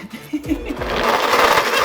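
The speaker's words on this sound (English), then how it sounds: "It only makes sense that our final recipe of the day also has a blender." A kitchen blender runs while blending a thick, chocolate-brownie-like paste for a Tom Brady-style recipe, roaring in loud and steady after a few brief knocks and low tones at the start.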